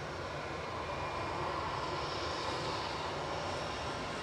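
An Airbus A320 airliner at Manchester Airport gives off a steady, broadband engine roar that holds at an even level throughout, moderately distant with no voices over it.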